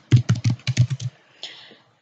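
Fast typing on a computer keyboard, about nine crisp keystrokes in a quick burst, close and clear, followed by a softer brief rustle, with no voices.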